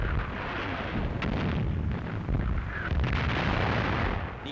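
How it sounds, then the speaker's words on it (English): Enemy artillery shells burst among advancing German units in grainy wartime footage from the invasion of the USSR. Dense, loud, rumbling blasts and crackling roll on continuously, with no clear gaps between impacts. "Die Granaten der feindlichen Artillerie schlagen zwischen den vorgehenden Verbänden ein."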